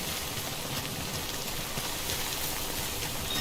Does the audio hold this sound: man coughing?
no